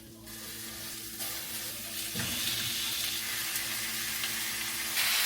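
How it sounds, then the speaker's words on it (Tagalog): Chicken pieces are stir-fried in a hot pan, with a continuous loud sizzle that swells partway through, plus a low steady hum and occasional stirring knocks nearby. "medyo i-stir fry ko muna siya bago ko siya lagyan ng sabaw"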